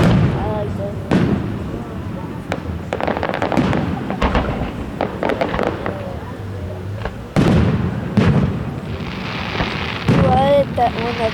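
Fireworks booming and crackling over South Haven, Michigan on July 4th, with repeated sharp bursts and rolling rumbles across the whole stretch and people talking under the blasts.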